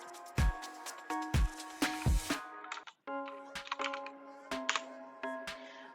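Keys clatter in quick irregular bursts on a computer keyboard, close and fairly clear, with a few heavier thumps early on and lighter rapid tapping afterward.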